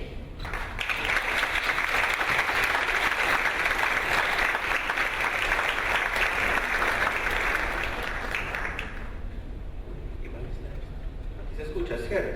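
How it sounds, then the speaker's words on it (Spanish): Audience applause at a women-in-business sustainability congress fills the room in a sustained, even burst for about nine seconds, then fades out, and a voice speaks briefly into the quiet afterward. "Le damos la palabra y un fuerte aplauso."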